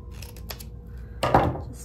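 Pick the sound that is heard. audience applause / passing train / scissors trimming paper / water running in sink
scissors trimming paper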